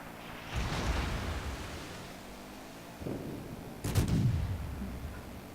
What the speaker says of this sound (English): Now I'm going to try and fire. Hopefully put the superstructure on fire.